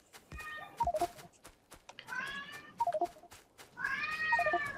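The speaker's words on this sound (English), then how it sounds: "Ooh, meow. Meow indeed." A cat meows three times, each a drawn-out wavering cry, separated by clicky beeping tones and short electronic blips from the game Factorio.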